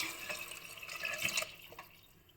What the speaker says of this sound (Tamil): வெறும் தண்ணி தான் விழுகிறது